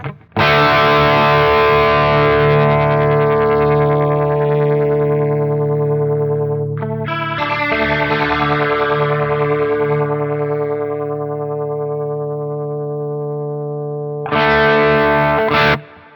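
A sustained distorted guitar chord rings out, then a G chord swells in gradually from F with a warbling modulation effect from a Quad Cortex, before another chord cuts in.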